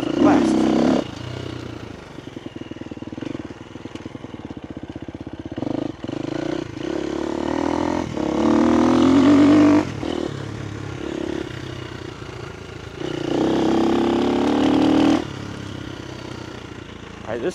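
A dirt bike engine revs and drops off in repeated surges while the bike climbs rough urban terrain, close and loud, with a rider talking over the motor.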